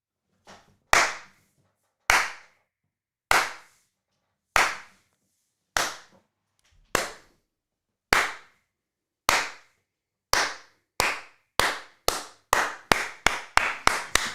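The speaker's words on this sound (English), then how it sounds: "Gotta give J.J. Watt the old 1980s slow clap" A single pair of hands performs a slow clap: sharp isolated claps about a second apart at first, then gradually speeding up into a quick run of claps, close and crisp against silence.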